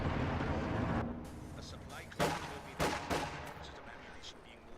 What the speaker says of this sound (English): Stuka ready to strafe enemy troops.